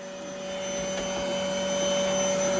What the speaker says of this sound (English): We use the same vacuum cleaner.